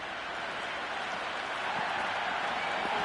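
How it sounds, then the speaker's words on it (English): Sustained roar of a stadium crowd cheering at an IPL cricket match between Chennai Super Kings and Royal Challengers Bangalore, a dense, continuous wash of noise with no distinct voices. "It's evident and ever so audible that the crowd is at near bursting point at today's play."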